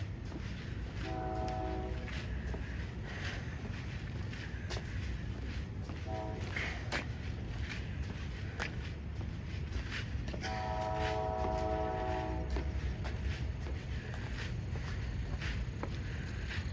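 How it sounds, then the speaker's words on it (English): A train horn sounds in the distance on a late-night downtown walk, sounding in three separate blasts (a long one, a short one, then a long one) over steady traffic and street rumble. "Train is blowing this whistle"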